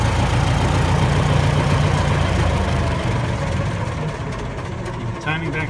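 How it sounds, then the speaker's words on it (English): A 1912 Cadillac engine idles just after its self-starter fires, a loud, low, chugging rumble close by that eases slightly toward the end, with a brief higher whirr near the finish. "Nice chug, chug, chug idle."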